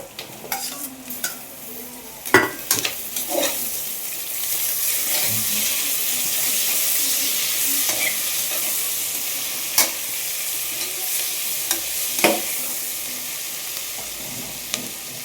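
Tomatoes fry in a pan for tomato rice and are stirred with a spatula. A steady close sizzle runs throughout, broken by repeated scraping and clinking strokes, with no talking.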